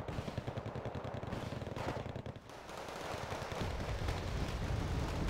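Artillery fire in the Wargame Red Dragon real-time strategy game, dense rapid bursts of shelling and gunfire that keep rolling, dipping briefly midway, then swelling into a louder continuous barrage.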